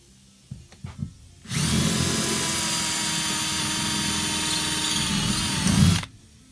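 A power drill with a 3/16 bit drills out rivets on a bus, whirring loudly and steadily for several seconds after a few light knocks, then cutting off abruptly.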